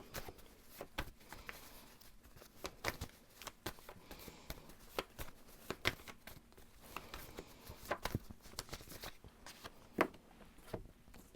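Tarot cards being shuffled by hand in a soft, close series of riffling and tapping bursts that repeat irregularly, with no talking.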